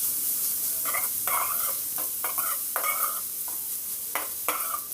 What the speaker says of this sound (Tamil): இப்போ இது எல்லாத்தையும் போட்டு நல்லா வணங்கட்டும்.